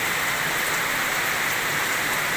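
Steady rain falls in the eleventh month, a dense even hiss of drops on surfaces, moderately loud and constant throughout with no voices.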